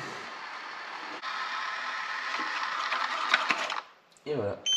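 A connected robot vacuum cleaner drives itself back to its charging base, giving a steady whirring motor and brush drone for several seconds before cutting off, followed by brief clicks and a short voice.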